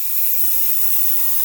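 An airbrush sprays VMS No Peel primer with a steady close hiss of air, and a low buzzing hum from the compressor comes in partway through.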